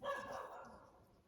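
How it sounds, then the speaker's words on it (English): A single short dog bark, sharp at the start and trailing off, fairly faint and heard alone. "Sorry about the dogs"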